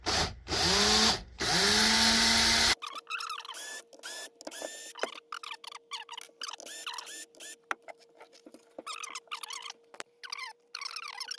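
A power drill runs at low speed to drive a screw with a Phillips bit while shaping a shim for a cheap bass guitar; a loud, steady whir fills the first few seconds, followed by quieter scraping and tapping sounds.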